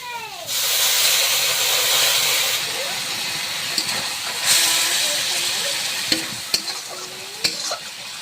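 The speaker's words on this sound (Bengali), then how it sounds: "জল দিয়ে দিচ্ছি একদম হালকা অল্প জল দিয়ে দেবো" Water poured into a pan of simmering curry made with water lily stems and crab erupts into a loud, sustained hiss of steam and sizzling that gradually settles, followed by scattered clinks and scrapes of stirring.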